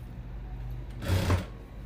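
Sewing machine stitching two aligned fabric pieces along a quarter-inch seam during a basic stitching lesson, one brief whirring burst in the middle over a steady low hum, with no voices.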